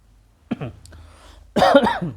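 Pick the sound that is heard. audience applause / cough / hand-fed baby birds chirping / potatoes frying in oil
cough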